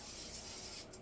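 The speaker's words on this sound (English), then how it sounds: "This is like butter flavored cooking spray." Butter-flavored cooking spray hisses from an aerosol can in a home kitchen, a quiet, continuous spray lasting under a second before cutting off.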